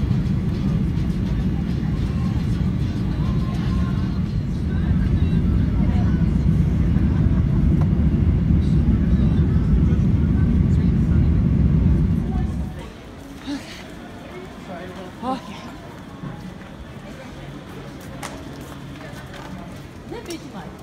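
An airliner on the tarmac gives a loud, steady low rumble that cuts off abruptly after about twelve seconds, leaving a quieter background, with people chatting throughout.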